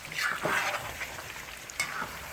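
Trini-style curry duck simmers on the stove top, giving a soft steady sizzle and bubbling with a few louder spits and the scrape of stirring, fairly close with no talking.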